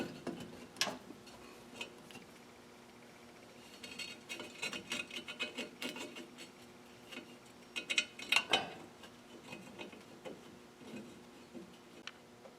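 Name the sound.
bolting a new wheel cylinder onto a drum brake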